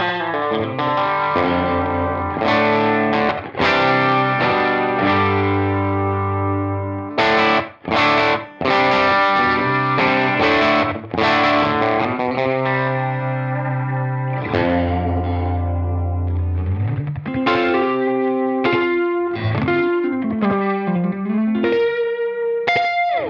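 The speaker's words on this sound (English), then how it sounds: "that tape saturation actually sounds great" Electric guitar runs through a UAFX Starlight Echo Station delay pedal with tape saturation, playing slapback-echoed chords and bending lead lines continuously, loud and close, with no voices.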